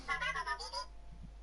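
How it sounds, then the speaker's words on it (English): A phone notification plays a squeaky BB-8 droid voice, a short run of warbling chirps followed by a brief pause and then a sharp burst. "That's my phone telling me that either someone's messaged me something on Discord"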